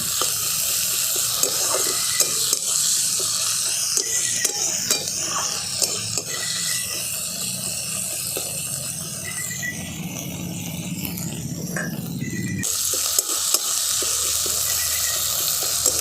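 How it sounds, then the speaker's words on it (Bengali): Onion frying with ginger, garlic and green chilli paste in a pan for a Bengali aar fish curry, heard as a soft continuous sizzle under repeated scraping and stirring with a utensil, with a brief pause near the end. "এবার পেঁয়াজের সঙ্গেই আদা রসুন কাঁচা লঙ্কা বাটাটা খুব ভালো করে ভাজা ভাজা করে নেব"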